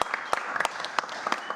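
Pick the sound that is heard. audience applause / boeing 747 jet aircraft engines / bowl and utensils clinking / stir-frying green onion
audience applause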